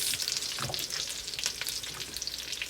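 Food being stirred and mixed with soy sauce and salt in a pan, giving a steady close sizzle broken by scraping and stirring strokes, with no voices.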